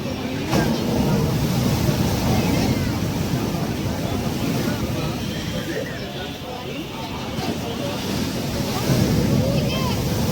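Sea waves at Old Digha beach roll in as a steady, loud surf wash with wind buffeting the microphone throughout, the level swelling again near the end.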